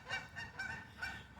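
Canada geese honk in the background as they fly past outdoors, four rising calls spaced across the moment, moderately distant and clear with no talk over them.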